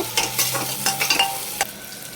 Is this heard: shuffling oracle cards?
no